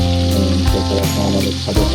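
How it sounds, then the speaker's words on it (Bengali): Fish liver frying until crisp in oil gives a loud, close, continuous sizzle with bubbling and crackling throughout, and a couple of brief bursts as it is moved in the pan. "এটা একদম কড়া করা করে ভাজা করবো"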